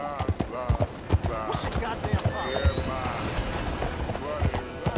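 A fast horse clip-clops along a narrow road in Red Dead Redemption 2, its hoofbeats in a quick rhythm under someone talking throughout.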